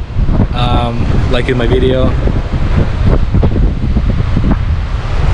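Wind buffets the microphone at Phra Nang Cave Beach in Thailand, a cliff-lined shore with islands, as a continuous rough roar while a person talks over it.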